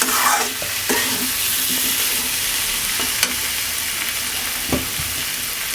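Taro and fish with spices sizzling loudly in a pan while being stirred, the steady hiss broken by several distinct scrapes and knocks of the spoon against the pan, no voices.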